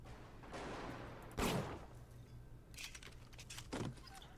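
Gunfire in BioShock Remastered: a hard, loud shot bursts out of a noisy rumbling backdrop, followed by a cluster of sharper cracks and a final report.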